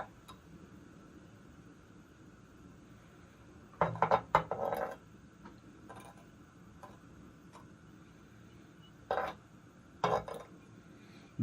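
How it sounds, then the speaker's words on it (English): A metal tool scrapes dross off fully molten lead in a pot during sand casting for a sign, giving a few clustered metallic scrapes and clinks over a quiet background hum, with brief pauses between strokes. "So all I do is scrape that into the corner."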